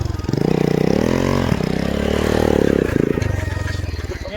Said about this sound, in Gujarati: બાઇક ભમેડે રહ્યા છે તમને બતાવી દો કેવા ભમેડે છે